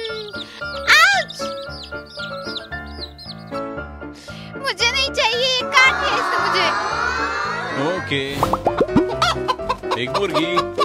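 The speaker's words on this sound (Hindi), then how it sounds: "एक मुर्गी।" A hen clucks repeatedly in a children's animated story, with bright music playing throughout and voices talking over it.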